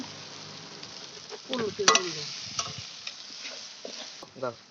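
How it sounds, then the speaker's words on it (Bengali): Sour yogurt is stirred into vegetables sizzling in a frying pan for a homestyle vegetable biryani. A spoon scrapes and clatters in irregular strokes over a steady close hiss. "টক দইটা দিয়ে দিলাম অবশিষ্ট যে টক টক দইটা ছিল দিয়ে একটু ভালো করে নাড়িয়ে দিচ্ছি"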